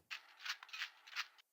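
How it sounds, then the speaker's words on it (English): A brief, soft rattly percussion sound, papery and shaker-like, swelling in several pulsing accents before stopping abruptly. "it's like a little rattly percussion thing."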